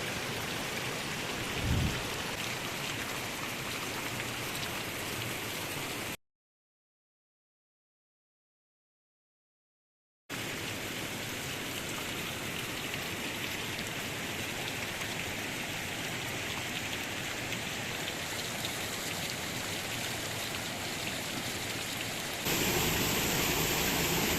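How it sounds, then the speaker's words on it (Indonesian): Water from the Cikahuripan spring gushes out of rock in a steady, loud rushing hiss, continuous and close, with a short break partway through. "mata air Cikahuripan, mata air yang paling besar aliran airnya"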